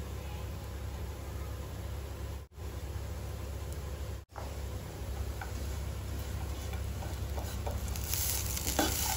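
Ginger-garlic paste fries in a pan with a steady, soft sizzle while a utensil stirs it, scraping and ticking. The sizzle is broken by two brief silent gaps and grows busier near the end.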